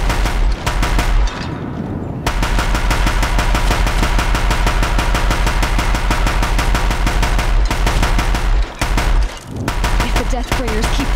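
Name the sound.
Deathbringer machines firing in the Horizon Zero Dawn video game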